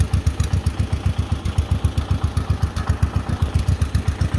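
A 1948 John Deere Model M tractor's two-cylinder engine idles nearby with an even, rapid putt-putt beat that stays loud and steady throughout, with no talking.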